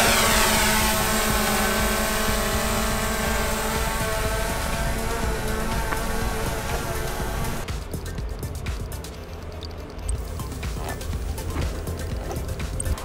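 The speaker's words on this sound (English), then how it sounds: "All right, so we did the drone." Whirring drone in flight during an outdoor vlog shoot, a loud, steady motor hum with layered harmonic tones that continues throughout and grows slightly rougher and noisier toward the end, with no talk.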